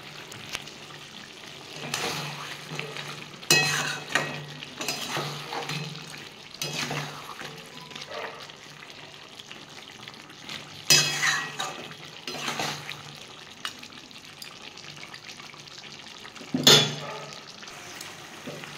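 Country chicken pieces frying in a pan with salt: a continuous low sizzle broken by repeated scraping bursts as the meat is stirred, fairly quiet and close.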